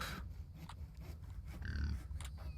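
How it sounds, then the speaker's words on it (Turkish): A low, rough pig grunt rumbles up close amid faint background noise from the video game The Infected, with no talking. "Domuz sesi geldi sanki."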